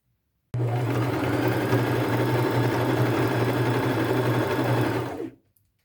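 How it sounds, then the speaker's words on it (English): A sewing machine runs steadily, stitching a half-inch seam through a fringe crossbody purse made from thrifted materials, starting abruptly and whirring continuously up close for about five seconds before winding down to silence. "I'm going to take it to my machine, and I'll do a 1/2 inch seam allowance."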